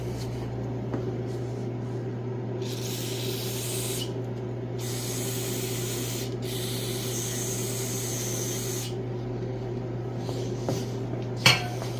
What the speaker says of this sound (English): I'm going to spray off with some brake cleaner the threads on the tap as well